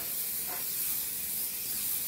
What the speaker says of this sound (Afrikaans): So ons spuit hom lekker goed alle kante.